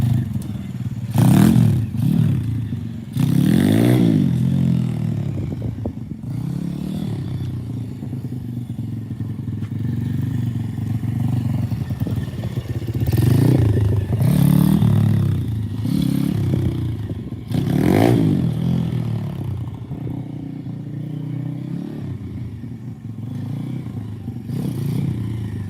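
A custom Yamaha RFZ motorcycle engine fires up for the first time and runs loud and close, with rough idling broken by repeated rising revs and a mechanical clatter throughout.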